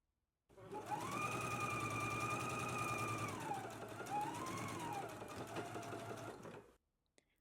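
A home sewing machine stitches a collar seam at a 5/8-inch seam allowance, its motor whirring steadily and loudly with a rising and falling hum, running alone for several seconds before stopping.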